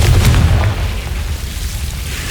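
Spell explosion from the Confringo fire spell in Hogwarts Legacy, a heavy low boom burst at the start that rolls into a sustained rumbling roar fading slightly over the next two seconds, loud and close with no talk.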